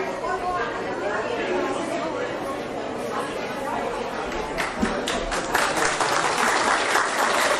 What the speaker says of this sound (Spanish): Fuerte aplauso para el doctor Frida.